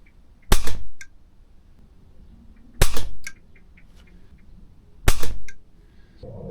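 Three air rifle shots are fired at a target card, each a sharp, loud crack followed by a short thud, evenly spaced about two seconds apart with quiet between them.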